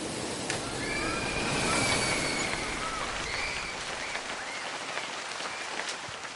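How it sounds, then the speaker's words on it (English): Steady hiss of light rain falling over school grounds, with faint squealing tones drifting in the background, continuous and even throughout. "it begins to rain lightly"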